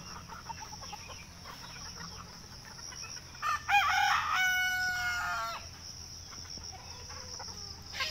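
A free-range desi rooster on a small farm gives one loud, clear cock-a-doodle-doo midway through, over quiet farmyard background with faint clucking from other chickens.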